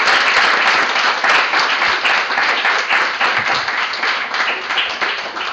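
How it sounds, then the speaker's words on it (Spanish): An audience applauds continuously, a dense, loud wash of many hands clapping, steady throughout with no other sound. "pedirle a la audiencia, si es posible, que le podamos regalar un aplauso a Carlos, por favor."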